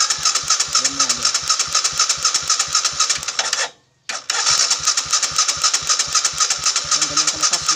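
Motorcycle engine fitted with a modified racing CDI revs loudly and continuously up close, with a harsh rapid pulsing exhaust note and a brief cut-out partway through before it roars back.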